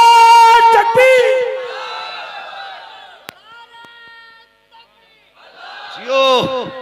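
A crowd at a religious speech answers the Naara-e-Takbeer call with loud chanted shouts, rising in bursts, fading, then swelling again; many voices together, close and strong.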